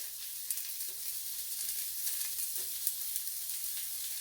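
Five sausage patties sizzle steadily in a pan over a home breakfast stove, a soft continuous hiss with a few faint pops, close and unbroken, with no talking.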